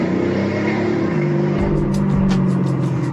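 A Maserati fitted with 4x4 tyres revs up on the accelerator, a loud, close engine note rising and swelling over a few seconds.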